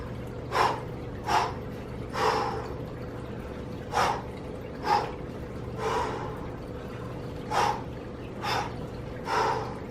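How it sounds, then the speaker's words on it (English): Eight sharp, breathy exhales at a steady rhythm during kettlebell snatch backswings, each a short forceful puff, close and clear over a faint steady hum. "3 exhales will look like this."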